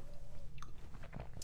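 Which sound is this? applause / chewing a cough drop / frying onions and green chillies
chewing a cough drop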